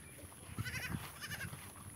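A young goat kid gives a few faint, short bleats outdoors against a steady background hiss, with no clear talk.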